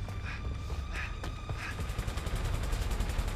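Gunfire rattles through a firefight in the video game A Way Out: a few scattered shots at first, then dense rapid bursts that build in intensity over a steady background rumble.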